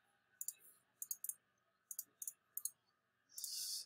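Clicking on a computer keyboard while entering lines into a list, several short bursts of crisp clicks in an uneven rhythm, close and fairly quiet, ending in a longer sustained rustle.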